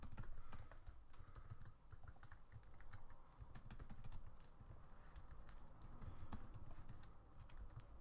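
Rapid keystrokes on a computer keyboard while JavaScript code is written into a script tag of an HTML file, a dense, steady patter of clicks close up with no talking.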